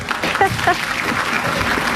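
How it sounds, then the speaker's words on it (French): A studio audience applauds on a French television comedy show, steady dense clapping across the moment with a few voices speaking briefly over it. "tout le monde vous applaudit, Arlette"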